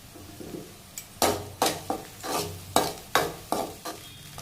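Ginger paste is stirred in freshly added hot oil for a restaurant-style home dish. Around eight distinct scraping spatula strokes rise over a soft sizzle in a quiet kitchen, with no talking.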